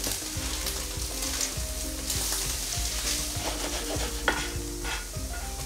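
Ingredients for taco soup frying and being stirred in a pan, a steady close sizzle with rhythmic scraping strokes of a utensil throughout, no talking.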